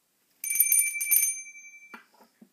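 A small bicycle-style bell rings in a quick burst of bright metallic dings and then lets a clear tone hang for a moment. A few soft knocks of handling follow.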